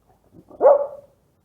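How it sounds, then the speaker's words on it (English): Agnes the dog gives a single short, close bark after a couple of soft lead-in sounds, then silence. "Can I get a bark?"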